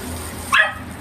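A dog gives a single short bark, close and fairly loud, rising briefly above a low background hum at home.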